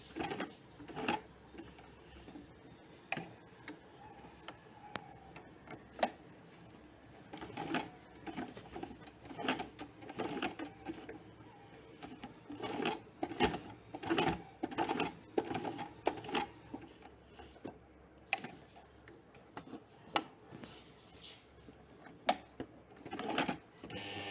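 A home sewing machine stitches along the edge of a men's kurta sleeve placket in quiet, fairly close runs of rapid ticking and clattering, broken by brief pauses and faint handling noise.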